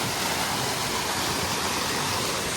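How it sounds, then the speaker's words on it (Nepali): A strong waterfall, heard as a steady, dense broadband roar of rushing water that stays loud and unbroken throughout, with no voices. "खतरा झर्ना छ यहाँ माथितिर"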